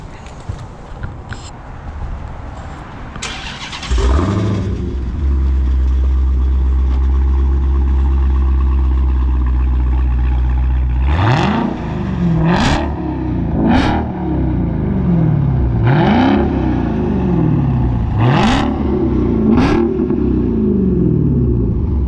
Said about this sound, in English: I'm gonna end up doing a little revving so you guys can hear how it sounds right now